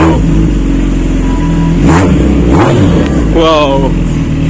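A car engine revs hard at full throttle on an outing, the loud mid-range roar rising and falling in several surges under continuous chatter from people inside.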